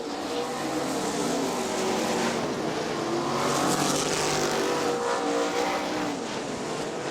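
Sprint cars racing on the dirt oval at Crystal Motor Speedway during a heat race, a loud continuous engine roar swelling and fading as the pack passes, with crowd noise and a faint announcer voice underneath.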